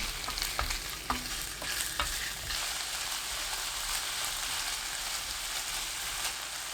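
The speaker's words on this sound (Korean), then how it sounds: "달군 팬에 올리브유 1큰술, 오징어 넣고 센 불로 1분 20초 볶아주세요" Squid stir-fried over high heat in a hot pan with a spoonful of olive oil, giving a bright, steady hiss with a few sharp clacks of the utensil early on, close up and with no talking.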